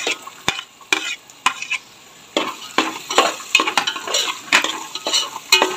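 Beans and chopped carrot stirred in a pan for vegetable fried rice, with a spoon scraping and clattering against the metal in uneven, close strokes and short pauses between them, over a soft sizzle.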